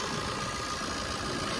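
A 13-year-old Fiat Punto's engine idles in a steady, even hum with a low rumble, heard alone with no talking.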